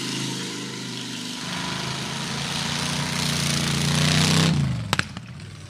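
A car with an Oldsmobile V8, replacing its original flathead, runs loud and close, a steady rumbling idle building slightly before the engine cuts out, followed by a few sharp clicks.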